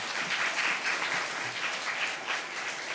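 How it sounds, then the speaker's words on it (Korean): A church young adults' congregation applauds a visiting professor after a worship sermon, a steady, dense wash of clapping that holds for the whole stretch with no voices on top. "저희들에게 소중한 또 경제적인 미래까지 책임져 주신 교수님께 뜨거운 박수 한번 올리겠습니다."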